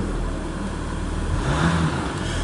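A Jeep Gladiator with the 3.0L EcoDiesel engine revs under throttle, a steady, close diesel drone that swells slightly partway through, with no voices.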